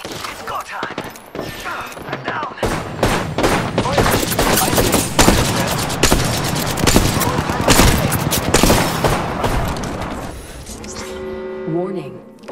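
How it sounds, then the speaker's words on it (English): Dense, rapid gunfire from a video game crackles almost without pause for about ten seconds, loud and close. Faint talk runs under the shots, and a tonal electronic sound rises at the very end. "They're shooting at me."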